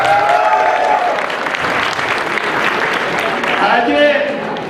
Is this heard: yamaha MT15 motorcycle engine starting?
no